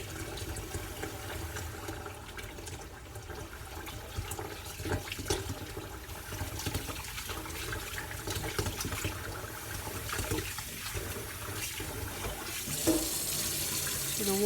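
Tap water runs steadily into a sink as rice is rinsed for boiling, a continuous hissing splash with small shifts in flow and clatter, fairly close and without talk.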